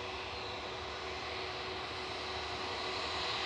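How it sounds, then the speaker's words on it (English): A British Airways shuttle flight to Heathrow, an aircraft at Manchester Airport, makes a steady, fairly distant engine roar with broad hiss and a faint constant hum, holding level without break. "This is BA flight 1399, commonly known as a shuttle down to Heathrow."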